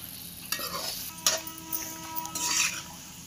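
Chicken egg fried rice with fresh coriander tossed and stirred in a hot pan, a soft sizzle broken by a few sharp spatula scrapes and clinks against the metal.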